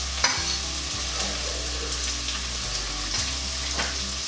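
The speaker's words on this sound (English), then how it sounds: "So over a medium heat, cook these off until they soften." Onions, three small ones with garlic, fry over medium heat in a pan, giving a loud continuous sizzle broken by repeated scraping stirs of a utensil, close up with no voices.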